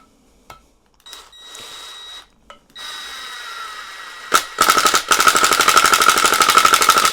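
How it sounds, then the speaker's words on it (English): A Ryobi RID18BL cordless impact driver on its lowest mode drives screws into an old table. A few short starts are followed by a loud, steady, rapid hammering rattle close by for the last few seconds. "so as you can see, it will drive it in, but it'll take a bit of time"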